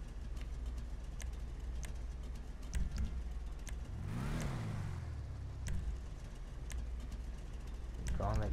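Bravado Gauntlet Classic muscle car in Grand Theft Auto V, fitted with a level 4 engine and box exhaust, rumbles steadily with a rising rev swell midway and another near the end, under background game sound.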